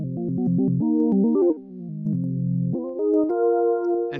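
A monophonic synthesizer playing a bright, buzzy lead line that glides smoothly from note to note, with pitch slides between sustained tones over a few seconds, alone and close.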